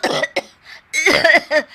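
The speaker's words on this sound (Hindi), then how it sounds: "दोनों खांसने लगती है" Several harsh coughs from stove smoke in quick bursts, close and loud, with short pauses between them.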